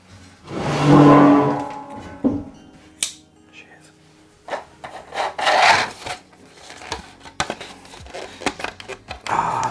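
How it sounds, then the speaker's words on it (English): Sanding a trimmed edge of a Stormtrooper ammo belt for a screen-accurate costume, heard as close, intermittent rasping rubs in short bursts, with a voice speaking near the start. "So I'm going to trim that up, sand it up."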